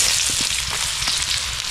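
Garlic sautéing in a pan gives a steady close sizzle and hiss with a few soft stirring taps throughout.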